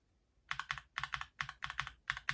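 Keystrokes on an Asus ROG Strix Scope II mechanical keyboard come in quick, close bursts of crisp clacks, several grouped presses repeating in a steady rhythm with no talking.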